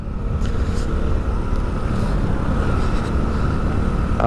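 Continuous low engine drone from a new Hero Splendor disc-brake motorcycle under way, a steady close-up hum with road and wind noise and no talking.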